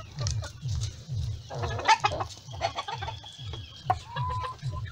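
Ornamental hens, including silkies, cluck steadily in a backyard coop with a rhythmic low repeated cluck, close by, while other birds chirp and squawk over it.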